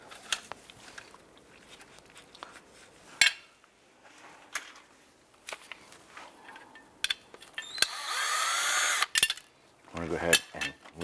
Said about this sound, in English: take this screw out right here